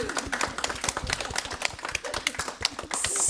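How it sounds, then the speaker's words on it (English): A small audience in a room at a women-in-business talk claps, with sparse, distinct hand claps close by and unevenly spaced, swelling briefly near the end. "let's give the men in the room a clap for coming tonight"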